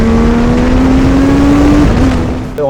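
A Legends race car fitted with a motorcycle engine and motorcycle gearbox, shifted with steering-wheel paddles at Magny-Cours, drones loudly and steadily as it accelerates, its pitch climbing before a quick gear change near the end.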